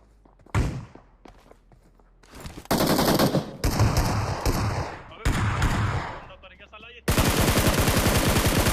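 SCAR-L assault rifle fire in the battle-royale game BGMI: loud, close bursts of rapid automatic shots, several strings separated by short pauses, with footsteps and other game effects between them.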